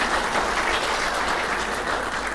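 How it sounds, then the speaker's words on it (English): Steady applause from an audience at an evening engagement event with Kenyans in Swindon, United Kingdom, a dense wash of clapping that stays even and continuous with no voices over it. "A round of applause, honestly, for Zangi."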